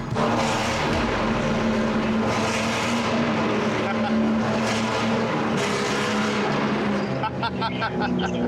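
A loud sports car engine roars continuously, echoing and reverberant as if enclosed, with a rising, sustained growl and a brief crackling toward the end.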